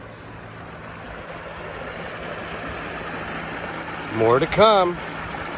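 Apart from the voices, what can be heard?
water pouring out of a broken water main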